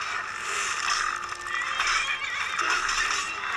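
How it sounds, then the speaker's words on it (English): A horse in the Skyrim video game neighs loudly amid game sounds, with clip-clopping hooves and a whinny carrying through the short stretch and no talk over it. "Why did you just kill that random horse?"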